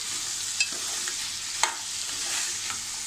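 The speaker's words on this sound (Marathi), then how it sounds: "आता मी असे सुरण त्यात टाकलं आहे. थोडी परतून घेऊया छान अशी." Elephant foot yam is sautéed in a pan, giving a steady bright frying sizzle throughout with a few light stirring taps, close and even in level.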